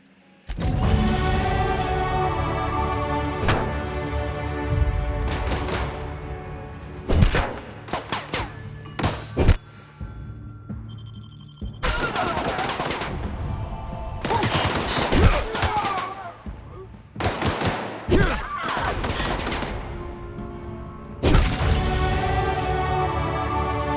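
Sustained bursts of guards' gunfire in The Outer Worlds, loud and close, with rapid volleys and thuds broken by brief pauses, plus a little speech in between.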